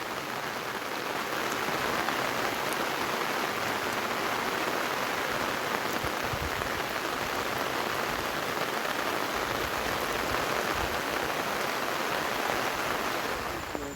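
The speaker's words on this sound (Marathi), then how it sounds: "बघा पाऊस किती जोरात सुरू झाला आहे" Heavy rain pours down steadily at a riverside in rural Konkan, a dense, loud hiss of drops hitting surfaces without a break from start to finish.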